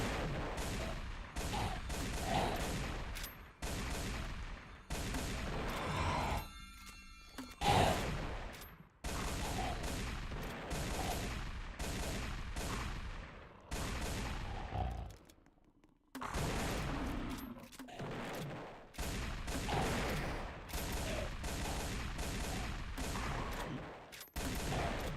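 Dense, loud gunfire and grenade explosions in the video game Final Stand 2, rapid overlapping bursts and booms running almost nonstop, with only brief lulls and no talking.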